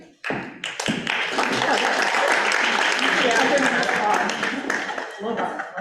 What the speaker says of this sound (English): Definitely get applause when we are ahead of budget